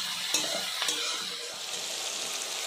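Vegetables fry in a pan with salt and turmeric, a steady close sizzle broken by a few sharp stirring scrapes near the start, with no talking.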